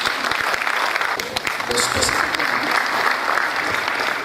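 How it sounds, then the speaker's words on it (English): An audience at a Nigerian health conference gives a speaker a loud, sustained round of applause, dense clapping filling the whole stretch with a brief voice near the start. "Another round of applause for her, please."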